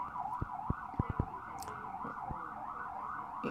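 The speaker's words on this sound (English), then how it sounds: "And there's a bunch of sirens to go along with that." Emergency vehicle sirens wail steadily outside, a continuous rising-and-falling tone at moderate distance, with a few faint knocks and clicks nearby and no talking.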